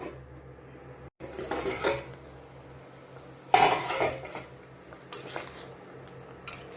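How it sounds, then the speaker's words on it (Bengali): Metal cookware clanks in a home kitchen as a lid goes onto a pot of fish and potato curry: a few sharp clatters and scrapes separated by quiet, close and moderately loud. "এখন ঢেকে রাখবো।"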